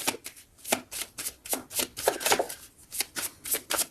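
Tarot cards are shuffled in quick riffling bursts, a series of crisp, close, fairly loud flutters with brief pauses between them, and no one speaks.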